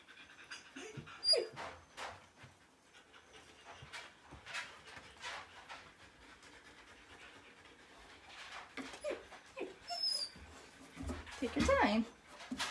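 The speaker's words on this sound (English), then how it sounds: "You're panting like crazy." A dog pants quickly and softly indoors in short breathy bursts, close by, with faint whimpers and occasional quiet movement noises.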